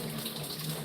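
Cold tap water runs steadily into a Miele vacuum cleaner filter while it is gently cleaned with a bamboo disposable fork, a soft, even close-up gush with no voices.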